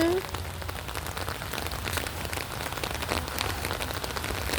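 Continuous rain falls and patters on surfaces nearby, a dense steady hiss of droplets, with a brief faint voice at the very start.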